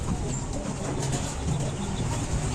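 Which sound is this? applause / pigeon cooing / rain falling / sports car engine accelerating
pigeon cooing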